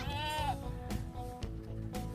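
Goats bleating on a farm among pregnant does, several harmonic calls with one rising cry early on and shorter bleats later, close and fairly loud over steady low background noise.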